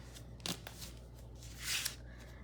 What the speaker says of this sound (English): I'm going to give this a good press with my bone folder.